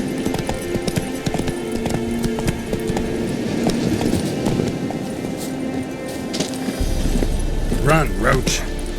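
Roach the horse gallops in The Witcher 3 video game, hooves drumming in a fast steady clip-clop close by, with a voice speaking briefly near the end over the hoofbeats.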